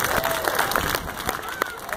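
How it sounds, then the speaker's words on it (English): Crowd at an outdoor street performance at Pier 39 applauds and cheers, dense clapping mixed with excited voices and chatter in a busy open-air setting. "Please give her a round of applause"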